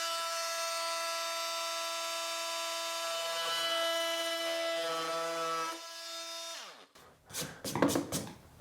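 A new Milwaukee M12 cordless oscillating multi tool buzzes with a high, harmonic-rich drone that dips in pitch before cutting out, followed by a few short, rasping bursts as the blade bites into wooden baseboard.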